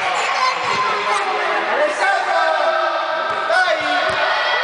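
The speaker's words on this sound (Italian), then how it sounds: "si sente già da qua le grida dei ragazzini" Young children shout and call out together inside an indoor multipurpose sports hall during a youth football session, a continuous, reverberant wash of high-pitched voices filling the space without pause.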